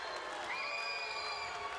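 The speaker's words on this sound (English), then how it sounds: "He's got his fans that cheer for him there." Wrestling crowd at a TNA Hardcore Justice event in 2011 cheering and applauding, a steady roar of arena noise with a rising shout or whistle riding on top.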